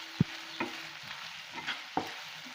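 Bread and egg are stirred in a frying pan over low heat, with a few scattered scrapes and taps of the spoon over a soft, quiet sizzle.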